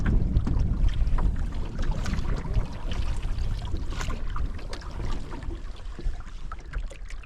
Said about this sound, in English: The wind is still blowing in our faces.